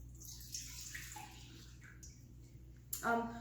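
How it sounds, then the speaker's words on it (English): One cup of microwave-warmed milk is poured into a mixing bowl for dinner roll dough, a soft liquid splash and trickle that swells near the end over quiet background hum. "So we warmed 1 cup of milk up in our microwave for 40 seconds. Let's pour this in."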